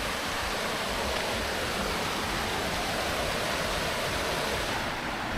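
A small cascade of water in Beechworth, Victoria, pours with a steady, full rush. The broad wash stays even and loud for the whole stretch, with no voices over it.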